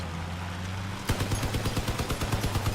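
A vehicle-mounted machine gun firing in the game Crossout, a rapid rhythmic burst of evenly spaced loud shots that starts abruptly after a steady low engine hum.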